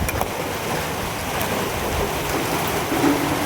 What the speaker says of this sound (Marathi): सुरू झाला पाऊस